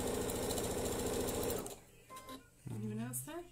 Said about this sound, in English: it's just watching me stitch half square triangles